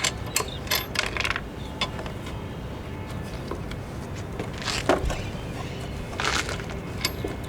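Metal screw and bolt being worked loose from the footrest of a baby tricycle, giving scattered small clicks, ratcheting ticks and light metallic taps at close range over a low hum.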